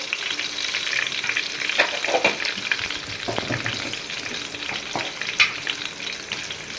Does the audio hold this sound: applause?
no